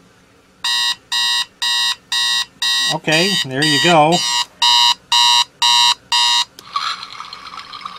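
A Timex T122NW digital alarm clock alarm goes off in evenly spaced loud electronic beep bursts, briefly overlapped by a warbling tone, with a short spoken remark near the end.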